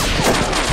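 Gunfire rattles in a wartime battle scene, a dense, loud burst of shots that lasts under a second.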